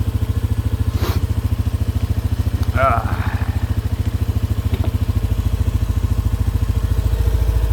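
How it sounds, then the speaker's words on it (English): A Yamaha Big Bear 400 ATV engine idles steadily in the cold with a throaty, rapid low pulse. It sounds close and loud and runs throughout, with a few brief clanks over it. "Even the gas tank's making a weird, like, it's got a throaty sound to it."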